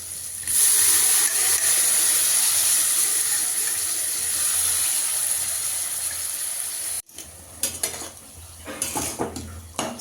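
Chickpea greens hit a hot frying pan alongside fried potato and eggplant, producing a loud, steady sizzling hiss that stops abruptly and gives way to scattered clatters of a utensil against the pan.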